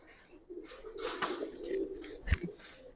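Giribaz pigeons coo softly and nearby in a few soft, throaty calls, with a brief sharp knock partway through.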